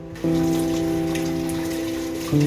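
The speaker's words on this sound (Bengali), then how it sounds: "ভালো করে ধুয়ে নিলাম" Spring onion leaves rinsed under a steadily running kitchen tap, a constant humming stream of water that starts abruptly and shifts in pitch near the end.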